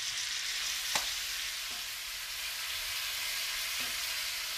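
Turkey ragout meat sizzles and fries in a pan, a steady close hiss with faint stirring clicks and no talking.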